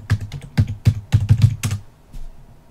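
Rapid bursts of keystrokes on a computer keyboard while logging in to a Raspberry Pi, close and crisp, with uneven clusters of clicks that trail off into a few lighter taps.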